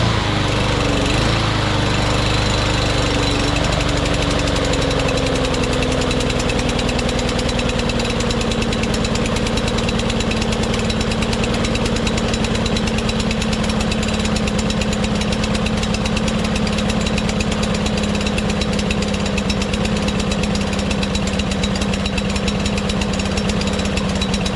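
A Craftsman LT2000 lawn tractor engine runs steadily and loudly up close, a continuous rich-running drone with a slight pitch dip early on, with no talking over it.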